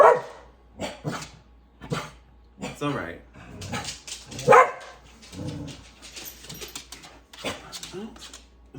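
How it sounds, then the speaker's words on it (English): Two dogs bark and whimper indoors in a series of sharp barks and yips spread across the stretch, mixed with a person talking. "We have 2 dogs here right now."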